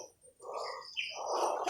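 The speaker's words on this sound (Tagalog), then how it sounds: "Ang laking ibon yun ah" A large bird calls nearby, a couple of loud, harsh cries rising in pitch, with no one speaking.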